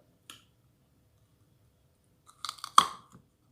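Crunchy Indian gooseberry (makham pom) is bitten and chewed up close: one small crisp click, a pause, then a burst of crunching bites with one sharp loud snap, quiet room otherwise, no talking.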